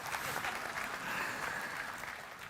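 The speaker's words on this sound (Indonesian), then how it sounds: "Iya, tepuk tangan enggak apa-apa." A congregation claps briefly during an Indonesian-language church sermon, the applause soft and distant, forming a continuous patter with no talking on top.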